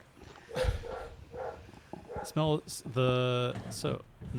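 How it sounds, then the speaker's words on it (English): A dog barks upstairs in a home, a few short muffled woofs heard faintly while people talk close by. "That dog is barking upstairs."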